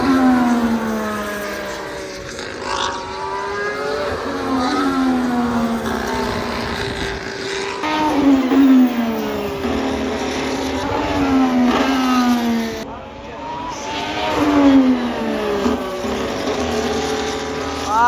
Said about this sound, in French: la Ferrari elle est plus rapide que les autres